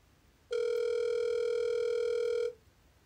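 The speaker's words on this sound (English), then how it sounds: "At the tone, please record." A voicemail recording beep on a phone call: a single clear, steady electronic tone lasting about two seconds that stops cleanly, with near silence before and after.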